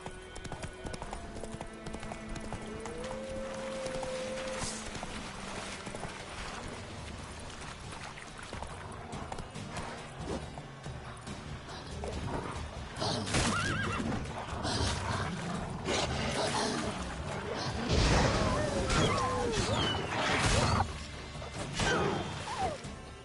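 Horse hooves clip-clop steadily in The Witcher 3, mid-distance footfalls over ambient game sound and a whistle-like tone, growing busier with clattering in the second half; no clear neigh stands out.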